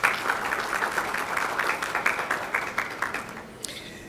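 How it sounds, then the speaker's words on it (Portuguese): Audience applause for a presenter at a solar energy conference panel, with distinct individual claps pulsing through a moderate crowd and tapering off near the end, then a brief sharp sound. "Uma salva de palmas para"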